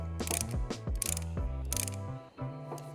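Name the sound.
caliper tool compressing brake caliper pistons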